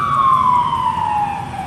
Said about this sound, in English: They follow me around with these sirens.